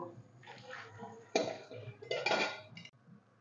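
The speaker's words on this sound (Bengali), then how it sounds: "আমি এবারে চিকেনটা আমি এই ঝুড়ির মধ্যে ঢেলে দেব" Boiled chicken and its water poured from a pot into a basket strainer, giving a couple of splashing, rushing pours with metallic clatter, preceded by softer handling sounds.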